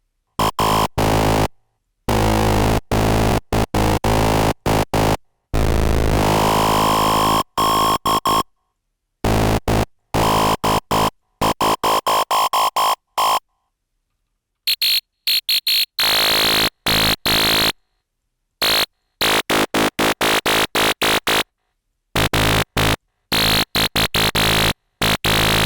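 FM synthesis oscillator on a synthesizer, harsh buzzing pulsed tones that sweep and change timbre, chopped by repeated abrupt silences, loud and upfront with no talking.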